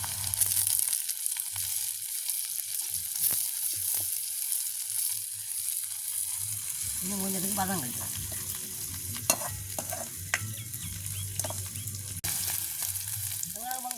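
Steady sizzling and stirring in a hot pan, with scraping of a utensil through frying food; a brief voice speaks near the end.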